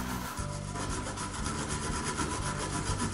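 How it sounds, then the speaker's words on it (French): Brass-bristle brush scrubbed vigorously over a baked bronze piece, a dense continuous rasping scrape held steady and close for several seconds with no pauses. "on vient la brosser vigoureusement avec une brosse en poil laiton"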